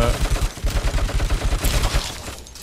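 A video game gun fires a rapid, steady burst of loud automatic shots, about a dozen evenly spaced reports over a couple of seconds, then trails off.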